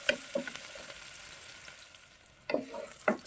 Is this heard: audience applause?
no